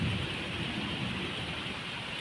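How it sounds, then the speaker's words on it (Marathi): Low thunder rumbles steadily beneath a dense hiss of unseasonal rain in Solapur, Maharashtra, a continuous, even wash of sound with no voices. "हा गडगडाट"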